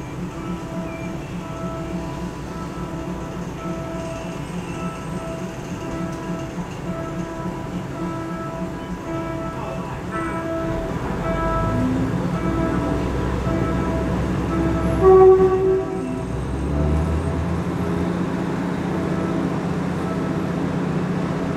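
A train rolls past close to a busy Bangkok road, a continuous heavy rumble and mechanical drone with rising intensity midway, blended with steady traffic noise and no talking.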